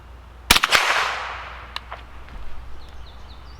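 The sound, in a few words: Winchester Wildcat .22lr rifle shots, Aguila 40 grain ammo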